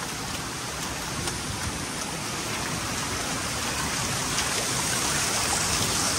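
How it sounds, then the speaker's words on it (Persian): Waterfall at Ortakand, Iran, splashing and hissing in a dense, steady wash of falling water, loud and close, with no voices over it. "اینجا ما مجبوریم بدویم دیگه چون اینجا آبشاره و خیس میشه"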